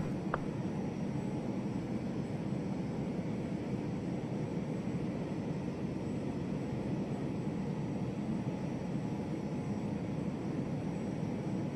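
Steady broadband jet engine roar from an Embraer airliner climbing out after takeoff in a flight simulator, continuous and even throughout with no talk.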